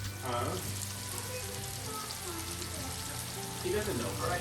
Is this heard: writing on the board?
no